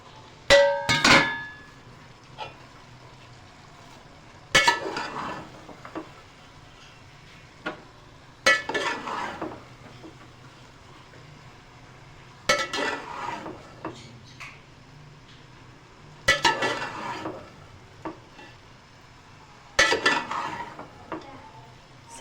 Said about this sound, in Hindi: उसके बाद हम इसमें डालेंगे तमाम ये जो थी ये पत्ता गोभी और शिमला मिर्च